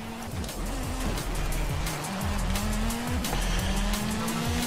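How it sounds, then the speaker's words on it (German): Car in Forza Horizon 5 skidding and sliding, with a steady engine tone and repeated tire squeals layered over a continuous rumble, loud and close throughout. "Alter, der schleudert wie die Sau."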